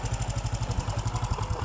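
An overhauled Honda XRM125 motorcycle engine runs close by in a steady, fast, chugging pulse, with a slight clattery edge and a brief uneven stumble midway.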